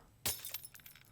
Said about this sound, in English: more glass, because I like glass.